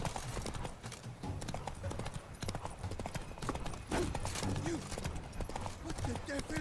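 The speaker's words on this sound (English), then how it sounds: "Come on, Roach." A horse galloping in The Witcher 3: Blood and Wine, steady rapid clip-clop hoofbeats throughout, close and prominent, with game voices speaking over it.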